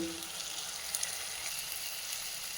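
Soft, steady sizzling and crackling of salt, chilli, turmeric and spice mix frying in hot oil for a drumstick (moringa) stir-fry, fairly quiet and even throughout.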